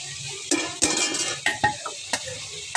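Onions stirred in a hot pan while frying for a taki fish bharta, with a steady soft sizzle broken by several sharp utensil scrapes and clanks against the pan, close and clear with no talking.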